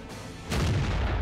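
A single heavy tank gun shot in a tank battle video game, a sudden loud deep boom that rolls on with a rumbling low tail, with no voices.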